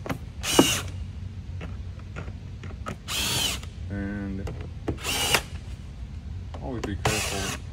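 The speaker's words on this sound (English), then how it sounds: "always be careful using your little screw gun for these." A small cordless screw gun drives screws into the plastic lid of a washable air filter box, four short loud whirring bursts spaced a second or two apart with clicks and handling noise between, one brief spoken word.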